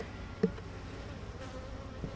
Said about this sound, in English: there's plenty of bees down there